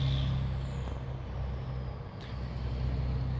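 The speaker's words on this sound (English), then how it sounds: "Dump truck is being kind of loud" Loud dump truck outside, a heavy diesel rumble idling and droning steadily at close range with a brief hiss of air, no one speaking over it.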